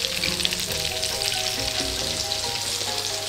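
Paccheri pasta deep-frying in hot oil gives a dense, steady sizzle with crackling bubbles throughout, close and loud.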